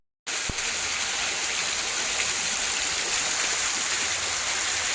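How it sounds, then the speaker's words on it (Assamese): Heavy rain hisses as a dense, continuous wash of sound that starts abruptly and holds at a steady level throughout, with no other sounds standing out. "এইটো চাইড বৰষুণ এই চাইডে বৰষুণ"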